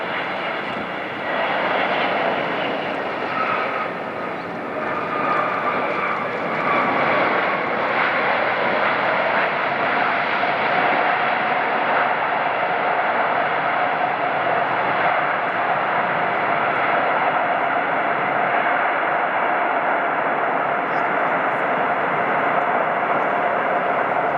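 Airbus A380 jets of Emirates, Asiana and Korean Air at Incheon airport give a loud, sustained jet-engine roar that holds steady throughout, close and alone without talk.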